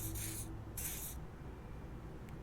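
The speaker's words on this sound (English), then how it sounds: "He douses you with the odd-spelling spray, a double helping as you present your other armpit" Two short bursts of pheromone spray from an aerosol can in the video game Disco Elysium, each a bright close hiss of about half a second, separated by a brief pause.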